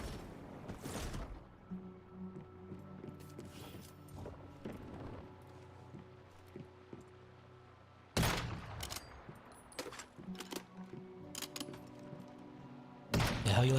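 Video game gunfire in the survival shooter Once Human: bursts of rapid automatic shots and single loud cracks come in clusters, with a low engine-like drone beneath and quieter stretches between.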